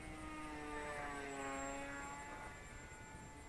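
A Volantex Ranger G2 1200mm RC plane flies a big loop close by, its steady propeller drone shifting in pitch as it climbs and dives, loud and continuous without talk.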